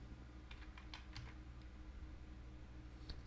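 Quiet typing on a computer keyboard, a short run of soft, close key clicks over a low background hum.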